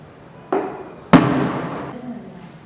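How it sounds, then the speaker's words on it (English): Rubber bullet shots fired at a West Bank demonstration, heard as two sharp reports about half a second apart, the second louder and followed by a lingering echo from outdoors. "You're going to be shot in the feet with a rubber bullet."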